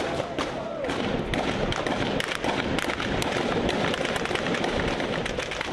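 Dense, continuous gunfire and booming explosions during street fighting in Misratah, Libya, a loud, relentless barrage of cracks and thuds with no pause throughout.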